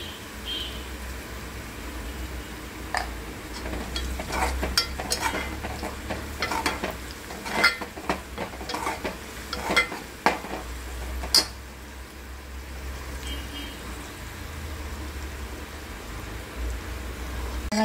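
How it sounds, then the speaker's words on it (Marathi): Curry leaves and onion sizzle steadily in hot oil in a pan, with a constant frying crackle and occasional louder stirring scrapes and clatters throughout. "आपला कढीपत्ता कांदा भाजून येत आहे"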